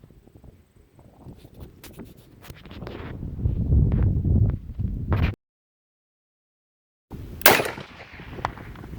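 A rifle fires at a target 200 yards away. A loud, sharp report is followed by rumbling and a brief silence, then another sharp crack.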